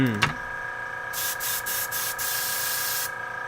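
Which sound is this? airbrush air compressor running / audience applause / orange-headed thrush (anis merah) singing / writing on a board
airbrush air compressor running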